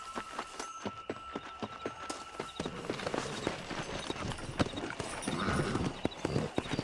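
Horse hooves clip-clopping in Red Dead Redemption as a rider sets off, a rhythmic run of sharp hoof strikes on hard ground, close and clear, with faint ambient noise behind.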